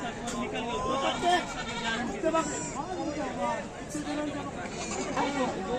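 Several goats bleat repeatedly, near and far, at a livestock market, over a busy background of crowd chatter and traders' voices.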